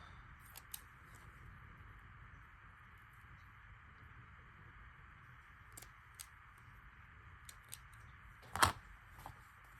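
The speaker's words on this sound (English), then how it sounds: "let me cut those little extra bits off." Scissors trim small excess bits of corduroy fabric on a handmade notebook cover: a few faint, scattered snips over a quiet background, with one sharper, louder cut near the end.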